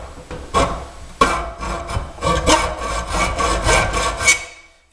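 Hacksaw cutting a Shuko mod part at the marked line, rapid rasping back-and-forth strokes, close and steady after a couple of starting pulls, no talking.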